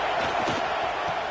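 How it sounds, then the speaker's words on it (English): A fired-up stadium crowd at a football game roars loud and continuous, a dense wall of massed voices with no single voice standing out. "this crowd is fired up. Listen to this noise here."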